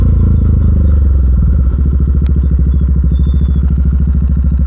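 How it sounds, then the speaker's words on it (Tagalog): A motorcycle engine runs loud and close in a steady, throbbing low rumble with a rapid pulsing beat throughout, a faint scrape or clatter briefly cutting in. "Ang sarap magmotor dito, man."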